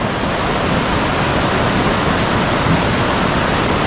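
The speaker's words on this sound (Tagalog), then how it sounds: "Kung gaano kalakas yung tubig." Heavy rain floodwater rushes hard and loud, a dense, unbroken roar of churning water that fills the whole span without a pause.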